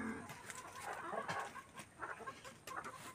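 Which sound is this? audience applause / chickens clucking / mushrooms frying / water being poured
chickens clucking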